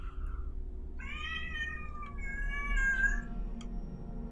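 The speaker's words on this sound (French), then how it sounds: "C'était un chat." A cat in the video game Dishonored 2 gives a drawn-out meow with a slight waver. It is clear and fairly close over a quiet low hum, followed by a faint short chirp.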